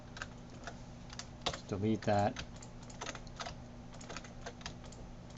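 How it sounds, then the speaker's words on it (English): Rapid, close clicking of computer keyboard keys and mouse clicks at a workstation running 3ds Max, with someone speaking briefly in the middle of the clicks over a steady electrical hum. "hold down Control on the keyboard, click this"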